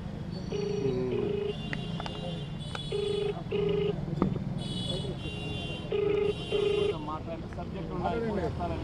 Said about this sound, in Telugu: ఇప్పుడు కూడా రాంగోపాల్ వర్మకు ఫోన్ చేస్తున్నాను